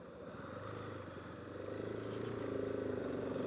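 A 2017 KTM 690 single-cylinder motorcycle chugs along at low RPM, a steady low throb heard from fairly close that swells a little louder toward the end.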